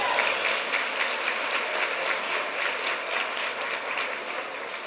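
Continuous applause fills a large hall at a women's awards gala, a broad even wash of many hands clapping at a steady level with no break.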